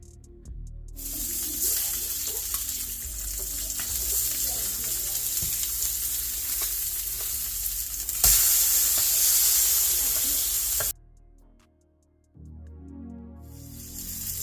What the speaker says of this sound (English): So we're gonna let this sear really good on one side so we can blacken that side.